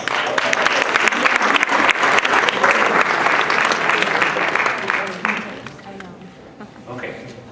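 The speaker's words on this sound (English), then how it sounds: "Let's give them a round of applause." A debate club audience claps in a dense, lively round of applause that holds strong for several seconds, then thins out and fades to a few scattered claps.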